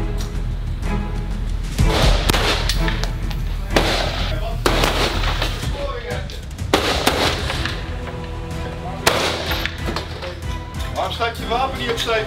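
A Dutch navy ship's gun fires several loud, sharp booms at uneven intervals, each ringing out over wind and background noise, while crew members shout and talk between the shots.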